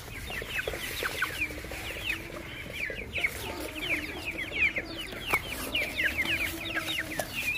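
A flock of free-ranging chickens clucks and chatters constantly near a vegetable and corn garden, many overlapping short calls at close to middle distance over a steady outdoor background.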